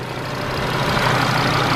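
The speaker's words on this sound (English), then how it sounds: "I hope the engine's not that loud and you guys can still hear me talk" An Audi TT RS Mk3 engine idles in its open engine bay, a steady, even drone heard up close with no break through the whole stretch.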